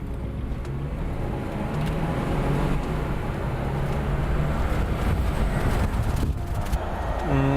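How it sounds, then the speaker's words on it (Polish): Audi A6 2.7T turbo six-cylinder from 2000, running on LPG, accelerates steadily with a continuous engine drone and rising tonal whine, mixed with wind and road rush throughout. "Będziemy mieli chwilkę, żeby przyspieszyć tym autem."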